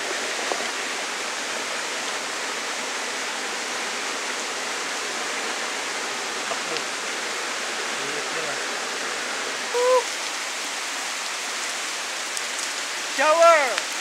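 Water pours steadily from a punctured mountain-fed waterline serving as an improvised shower outside a rundown hut, a continuous close hiss like heavy rain, with brief splashes and faint voices near the end.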